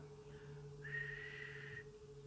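A person whistles a single sustained, slightly wavering note, rising and then holding for about a second over faint steady background hum, quiet and close, with no speech.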